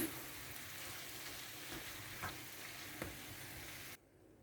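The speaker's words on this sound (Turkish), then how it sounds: "Bir 5 dakika kadar da soğanları pırasayla harmanlıyoruz." Onions and leeks sautéed together in a pan for a leek börek filling: a dense, even sizzle with a few stirring scrapes, stopping abruptly near the end.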